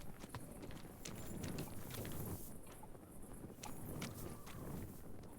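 A horse in Kingdom Come: Deliverance II approaches after being whistled for, its hooves clip-clopping steadily and fairly faintly over outdoor ambience and wind, with no talk.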